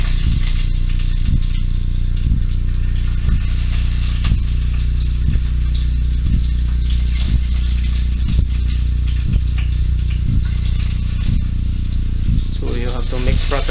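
Garlic sizzles steadily in a hot pan at the start of cooking chicken adobo, a loud, continuous frying hiss with periodic soft stirring knocks and a brief clatter near the end.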